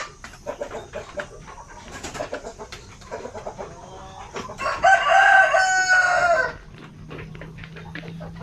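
Zampen native chickens cluck and call in short scattered bursts, then a rooster lets out one loud, sustained crow midway before the flock's softer clucking returns.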